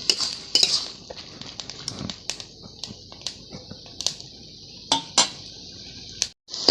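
Spoon scraping and clinking against a pan while banana flower curry is stirred dry, a run of close, irregular metallic clicks and scrapes.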